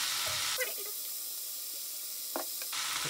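Mushrooms sizzling in oil in a pan, a loud hiss that cuts out for a couple of seconds, leaving faint pops and clicks, then surges back, close with no talking.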